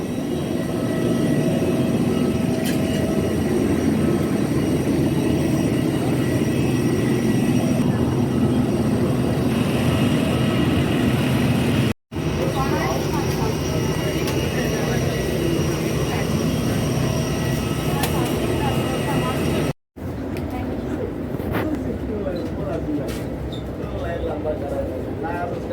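A landed airplane at Jolly Grant Airport produces a loud, continuous engine roar and rumble, broken by two brief cuts, with people's voices faintly audible under the noise.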